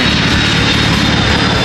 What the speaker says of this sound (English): Oh my God, big ass airplane.